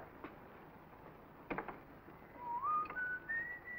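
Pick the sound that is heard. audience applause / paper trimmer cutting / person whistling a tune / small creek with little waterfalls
person whistling a tune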